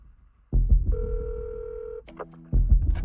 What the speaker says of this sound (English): The keys on the phone felt pretty heavy as I was pushing them.